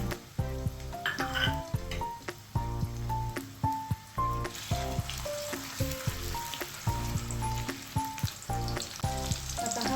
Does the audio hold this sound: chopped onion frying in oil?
yes